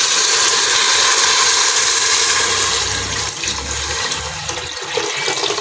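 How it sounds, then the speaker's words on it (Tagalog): Water pours into a cooking pot for pressure cooking, a loud steady rush that fills the whole clip and grows choppier toward the end. "Tapos lagyan na natin ng tubig."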